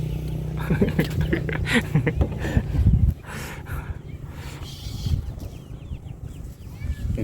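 Chickens cluck off and on, some close and some farther away, while people talk over them and small birds chirp faintly in the background.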